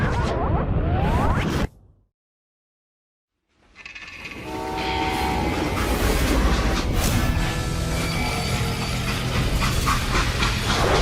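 Freight train in the Call of Juarez Gunslinger video game: loud, continuous rumbling rail noise with a horn-like tone, cut by a brief dead silence near the start before the heavy rolling clatter resumes and carries on.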